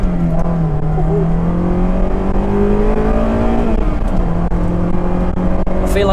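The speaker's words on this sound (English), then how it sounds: "Wheel spin." A Honda S2000 accelerating hard with wheel spin, its engine note climbing steadily in a loud, sustained drone from inside the car, with no talk.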